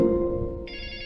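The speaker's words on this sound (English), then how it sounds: "And there it is on my cell phone right now. It's going to ring for 30 seconds." An anti-theft alarm triggered on a cell phone through the Prey app rings loudly and continuously in a steady electronic tone, with a higher tone added partway through.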